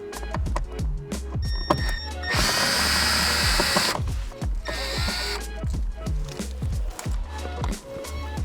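A power drill backs Phillips screws out of an interior panel on a Honda Ridgeline, with short whirring bursts and one longer steady run of the motor, loud and close, plus clicks and handling knocks between them.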